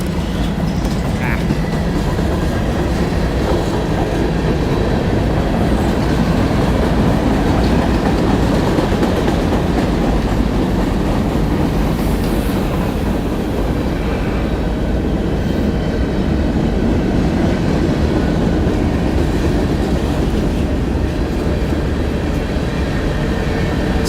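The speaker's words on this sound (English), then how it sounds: "As soon as this train passes, we'll read out the next super chat." A freight train rolls past on the tracks at a Chattanooga, Tennessee railfanning spot, a steady, loud rumble with rail clatter that fills the whole span without letup, a faint voice occasionally beneath it.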